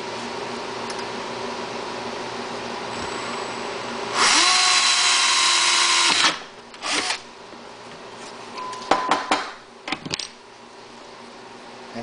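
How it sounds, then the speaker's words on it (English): A power drill boring a 1/8 inch pilot hole for a fuel kit on an EU3000is generator, one loud whining burst lasting about two seconds, followed by short clicks, trigger blips and handling noises in a quiet room. "put a 1/8 inch pilot hole"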